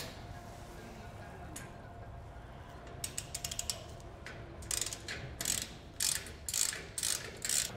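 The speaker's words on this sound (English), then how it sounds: "take a 1/2 inch wrench and socket to tighten it up all the way" A lock nut on a railed cargo carrier light kit bracket is tightened with a 1/2 inch wrench and socket, giving repeated close ratchet clicks in short bursts that grow louder and quicker toward the end.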